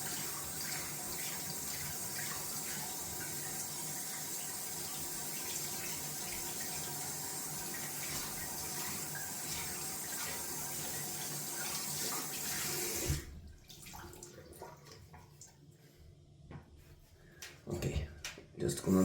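Tap water runs steadily into a sink for a long stretch while a dense silver tip shaving brush is rinsed of soap, then cuts off, leaving quieter handling noises.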